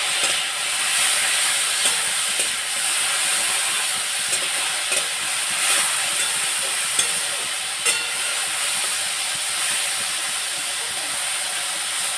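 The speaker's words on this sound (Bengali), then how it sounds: "একটু পেঁপে পেঁয়াজ লঙ্কা দিয়ে একটু ফ্রাই করব" Steady sizzling of papaya frying in a pan with onion and chilli, a continuous bright hiss with occasional faint clinks of stirring, no voices.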